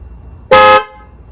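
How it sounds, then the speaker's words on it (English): A single short, loud Tesla car horn honk blares for about a quarter second, close by, then cuts off into quiet. "I could do things like I can make the horn honk."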